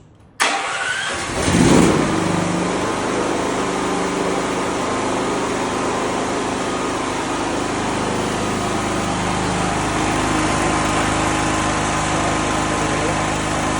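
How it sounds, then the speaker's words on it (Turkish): An AKSA 8 kVA generator cranks briefly and catches, then settles into a loud, steady engine drone that runs unbroken to the end. "Şimdi marşımızı yapıyoruz."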